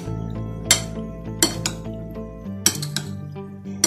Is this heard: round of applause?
no